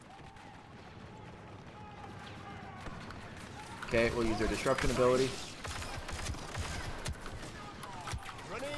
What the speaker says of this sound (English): I see gunfire over here.